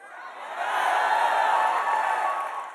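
A large political rally crowd in Atlanta cheers and roars. The noise swells after a moment and holds as a broad, steady wash of voices, then eases slightly toward the end.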